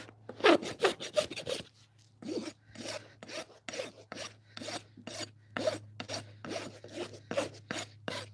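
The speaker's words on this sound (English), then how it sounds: "I'm going to use the soft side of my rasp." Hoof trimming with the finer side of a rasp, a close, steady series of rhythmic scraping strokes, each a short raspy burst repeating about twice a second.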